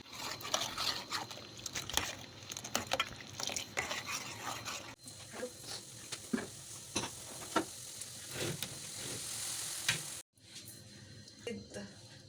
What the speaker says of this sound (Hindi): और बस इसको आधा मिनट अभी कुक करूँगी, बॉयल आने